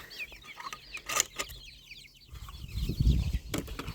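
Chickens cluck softly nearby in a yard, with a brief flutter of wings and some scuffling, fairly quiet with no talking.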